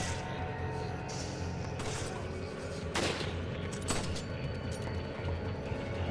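Gunfire in Resident Evil 5, with dense, continuous shots rattling through a busy combat mix, sharper reports standing out around the three- and four-second marks.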